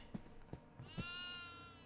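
Goat bleating in a horror video game, a drawn-out wavering bleat following a few short soft thumps, close and clear with no talk over it.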